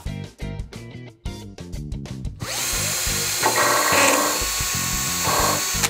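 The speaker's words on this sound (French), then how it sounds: "Ça nous permet ensuite de venir pré-percer avec une mèche" Power drill with a bit pre-drilling through pieces of wood held together in a workshop: short stuttering bursts of the motor, then a sustained loud whine as the bit bores in.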